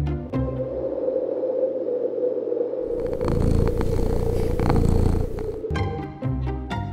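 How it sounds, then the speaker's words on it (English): A cat shut in a room purrs in a steady low rumble close to the listener, with a brief higher burst near the end that may be a meow, and no voices. "No amount of meows will get you out of there"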